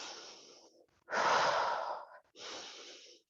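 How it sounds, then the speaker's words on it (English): Heavy breaths pushed out during a bootcamp workout effort: a soft exhale, a louder forceful blow, then another exhale, close and alone with no talk. "Inhale on the way down, exhale as we exert those muscles"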